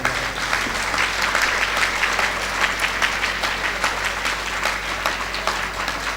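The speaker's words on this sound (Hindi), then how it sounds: "इसलिए एक बार जोरदार तालियां बजाएं।" A crowd at a Guru Purnima religious program in a Kabir temple in Phalodi, Rajasthan claps loudly and continuously, a dense, steady roar of applause with no talk over it.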